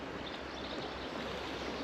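The River Doon, swollen and unsettled after repeated storms, flows in a steady, even wash of moving water, faint and continuous with no talk.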